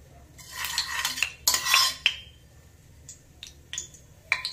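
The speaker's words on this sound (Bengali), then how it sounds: "ওতে আমি 1 চামচ ঘি দিলাম" A spoonful of ghee added to refined oil in a kadai: sharp metallic spoon clinks and scrapes against the pan, several quick bursts close by, with no talking.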